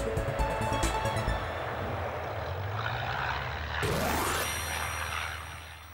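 A fixed-wing aeroplane lands on a runway, its steady engine drone loud and close throughout, rising and shifting in pitch near the end as the plane touches down and rolls along.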